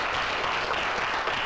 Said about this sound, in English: let's give a round of applause for the Future Freedom Foundation